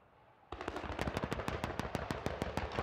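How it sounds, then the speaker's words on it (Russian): After a brief quiet moment, a 30 mm cannon fires a rapid burst of heavy, evenly spaced shots at targets on a military range, continuing to the end. "Стрельба ведется из 30-мм пушек по мишеням номер 13."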